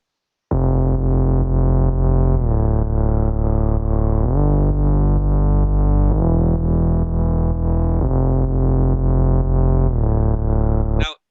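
Low sub bass line with EQ applied in a studio mix, sustained notes shifting pitch every couple of seconds, one note dropping very low, loud and steady without talk.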